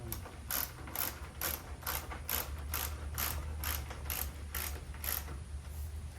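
Ratchet wrench snugging bolts while reinstalling the cooling fans on a 2011 Toyota RAV4. About a dozen crisp, evenly spaced clicks sit up close over a low background hum.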